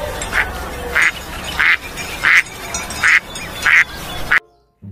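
A white toy duck quacks six times in an even, steady rhythm, each quack loud and close, over a faint background hiss that cuts off abruptly at the end.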